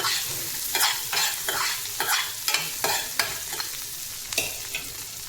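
Grated carrot hits golden-brown fried onions in a pan, sizzling steadily up close as a spatula scrapes and turns it in quick repeated strokes.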